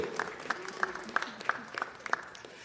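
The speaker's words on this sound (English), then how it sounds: "So let's give Paul a round of applause" Scattered hand claps from a small audience in a city council chamber, about eight distinct claps at a steady rhythm rather than full applause, fairly close and moderate in volume, with a voice briefly underneath.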